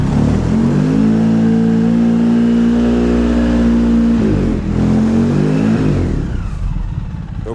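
A Polaris Sportsman 700 ATV engine revs hard and steady in low gear with only the rear wheels spinning, a loud sustained drone that drops in pitch near the end and fades out, with no talk.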